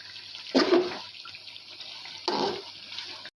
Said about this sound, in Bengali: এখন একটু করে পানি অ্যাড করতেছি কারণ ভাজা ভাজা হয়ে গেছে